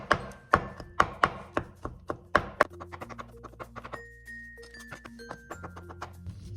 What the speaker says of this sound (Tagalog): Itong atay guys, kailangan pinong-pino natin siyang hiwain kasi or chop-chopin